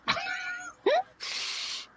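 A one-eyed cat makes a short close call, followed by a brief rising squeak-like vocal and a breathy hiss-like noise, all in a quiet room.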